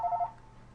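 Telephone ringing briefly, a short electronic warble of rapid alternating beeps lasting under a second, heard faintly in a quiet room.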